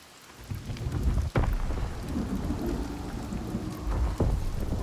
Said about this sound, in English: The constant storm.